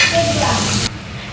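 Potatoes sizzle loudly as they are refried at high heat in hot oil with shrimp and bitter gourd, a dense crackling hiss that cuts off abruptly partway through.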